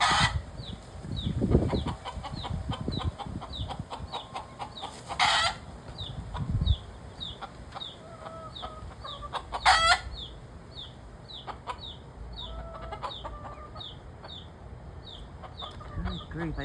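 Ducks and chicks in a noisy backyard flock, a steady stream of repeated high cheeping calls with louder bursts of quacking and clucking throughout.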